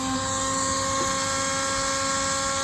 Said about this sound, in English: I have the Dremel set on 2, and it's a little bit noisy